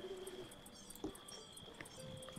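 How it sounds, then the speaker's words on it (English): A pigeon coos softly in the video game The Supper, a couple of short low coos over a quiet ambient background with a faint steady tone. "Yes, there's the pigeon."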